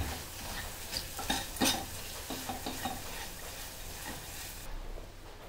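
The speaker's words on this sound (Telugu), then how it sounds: "ఇప్పుడు మంచిగా కలుపుకోవాలి" Garlic and chili powder mixture stirred in a hot pan, busy close scraping and clattering of the spoon over a steady sizzle that fades slightly at the end.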